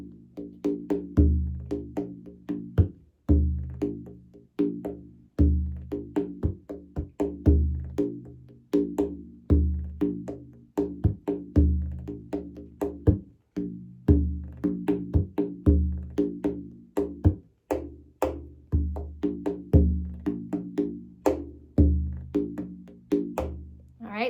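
Brushes played on a Remo buffalo frame drum, a steady run of soft, muted swishes and light snaps in an even rhythm, close and alone with no voices.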